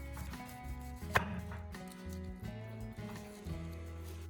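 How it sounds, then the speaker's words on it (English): A knife slices a pineapple in half lengthwise on a cutting board, one distinct crunching chop standing out, followed by softer cutting noises over steady background music. "then cut the pineapple in half lengthwise"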